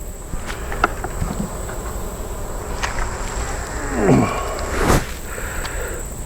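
Honeybees drone in a close, continuous buzz around an open hive during an inspection, with a few louder passes as individual bees fly near, plus light rustling and clicks.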